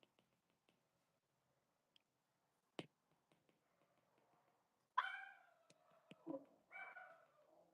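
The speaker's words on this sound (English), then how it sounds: "my dog is gonna start barking the whole time I'm live" A dog gives a few short, faint barks and yips indoors at a distance, scattered over several seconds among soft clicks and near silence.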